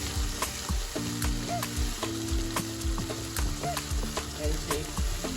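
Tomato puree sizzling in a hot pan, with leek, garlic, chili, green peppers and bay leaf cooking, steady close frying hiss with regular stirring scrapes throughout.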